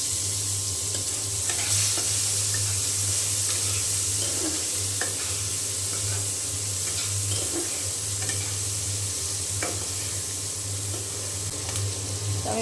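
Onions and green chilies frying in oil in a pan, a steady close sizzle with soft scraping stirs and occasional light spatters, no talking.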